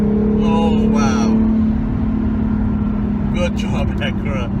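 A 2018 Acura NSX in sport mode accelerates hard, a loud sustained engine drone holding steady throughout, with brief voices speaking over it near the start and end.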